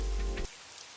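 Rain pours in a dense hiss for an audio drama scene, loud and steady for about half a second before cutting off to near silence.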